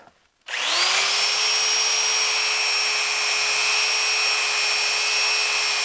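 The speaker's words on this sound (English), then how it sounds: "This is about 60 grit I'll use to get most of this. Then I'll switch to finer grits and I'll sand all this." A wooden bowl decorated with epoxy and pegs is sanded with 60-grit paper while it spins, giving a loud, even motor whine with a steady pitch. The whine starts after a brief silence and holds to the end.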